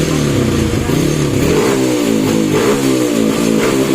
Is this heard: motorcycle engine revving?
yes